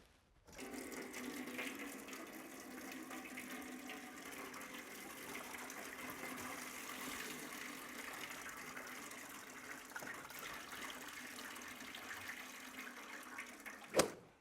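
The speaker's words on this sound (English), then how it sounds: "Now that we've got all the old stuff mixed up with the water, we can drain that out too." Old coolant mixed with water drains steadily out of a car radiator, a continuous gushing, splashing pour that holds even for the whole stretch, close and moderately loud, with a brief knock near the end.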